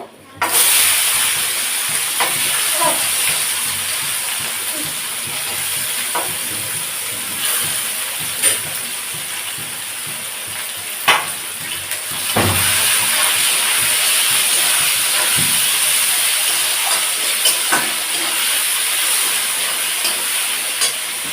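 Chopped onions frying in hot oil in a kitchen pan, a loud steady hiss and sizzle that carries on throughout with faint crackles and occasional small knocks.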